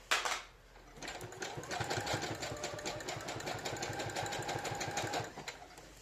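A sewing machine stitches elastic inside the seam allowance of a cloth diaper, running at a steady, rapid, even chatter for several seconds after a brief thump at the start, close and moderately loud with no talking.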